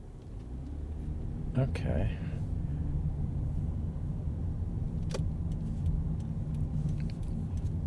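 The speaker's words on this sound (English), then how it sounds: "I'm at a conventional stop sign, at the end of Contrabando Avenue with an endless stream of cars." Cars rumble past one after another at a stop sign at the end of Contrabando Avenue in Norwich, Connecticut, a steady low road drone heard from inside a stopped vehicle, with someone speaking briefly and some clicks.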